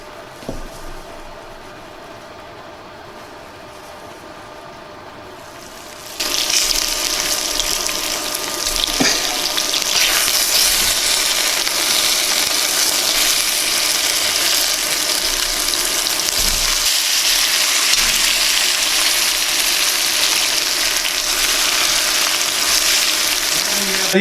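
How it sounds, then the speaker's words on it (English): Oxtails searing in a Dutch oven: after a quiet start, a loud, steady sizzle and crackle of meat frying in hot oil begins and holds without a break. "Then we're going to start searing it off in our Dutch oven."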